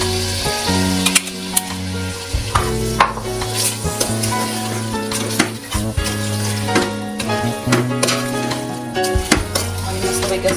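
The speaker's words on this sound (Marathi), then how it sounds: "आता याच्यामध्ये मी पेस्ट ऍड करणार आहे आपण जी कट केली होती कांद्याची आणि खड्या मसाल्यांची." Onion and whole-spice paste for Kolhapuri chicken biryani frying in a pot, with steady sizzling and repeated scraping and clinking of a spoon stirring against the metal, close and busy throughout.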